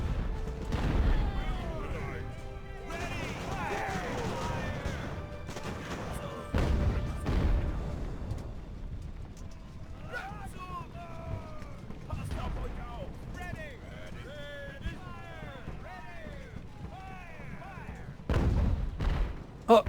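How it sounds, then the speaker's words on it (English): Cannon fire in the age-of-sail naval battle game Ultimate Admiral Age of Sail: several heavy booms land at irregular intervals, with clattering impacts and distant battle voices between them. "Oh, yep, see that cannon hit my guys."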